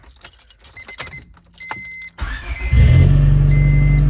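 A 1998 Honda Civic with a freshly repaired start button: keys jangle and electronic beeps sound first, then the engine cranks and catches, settling into a loud, steady close idle.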